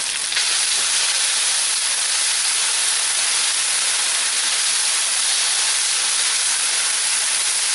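Handcut noodles hit a hot oiled pan with a loud, steady hissing sizzle that holds constant throughout, close and alone with no voices.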